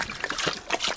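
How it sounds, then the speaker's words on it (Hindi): A Rottweiler laps and slurps water from a pipe, producing irregular wet trickling and splashing sounds up close, with no speech over it. "पाइप के साथ पानी पी रहा है"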